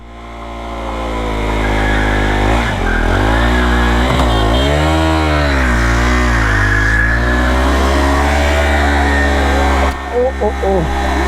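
A KTM Duke 390 motorcycle doing a burnout, its engine roaring loud and close with rising and falling revs and a sustained high-rpm howl, while people talk excitedly over it.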